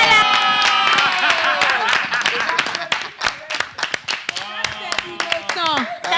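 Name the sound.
clapping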